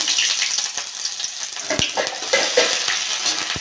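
Ginger paste fries in hot oil with panch phoron and dried red chilli for a tomato chutney, giving a close, steady crackling sizzle broken by a few sharp stirring clicks from a spoon.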